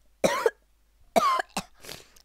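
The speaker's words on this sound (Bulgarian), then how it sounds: "Я съм кашлял." A person coughs in a quiet room: two sharp bursts, then a shorter pair of rougher coughs with some throat clearing, all close and alone with no talking.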